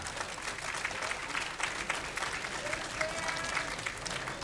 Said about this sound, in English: Please, exceptional round of applause once more for him